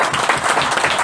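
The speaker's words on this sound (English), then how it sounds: "I'd like to applaud the members of the media" Members of the media at an EFF press conference are applauded with a brief, steady burst of clapping from many hands, loud and continuous throughout.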